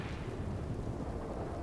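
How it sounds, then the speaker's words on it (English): Thunder from a lightning storm in Red Dead Redemption 2 rolls as a low, dense rumble, loud and sustained without any break, with no voices over it. "This fucking lightning is loud."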